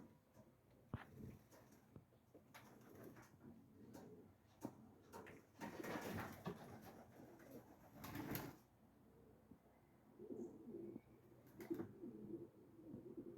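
Domestic racing pigeons coo softly and intermittently at close range, with wing flaps, shuffling and small knocks around a loft; the sounds are faint and come in scattered bursts.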